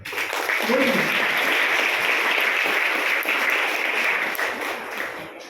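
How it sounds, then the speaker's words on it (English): An audience at an International Women's Day celebration applauds, a steady wash of clapping from many hands that swells quickly, holds, and tapers off near the end. "Let's give her a clap."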